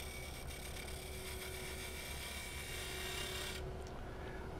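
A lathe tool scrapes a turned wooden friction-fit box as it spins, giving a continuous raspy rubbing that holds steady and then briefly eases near the end.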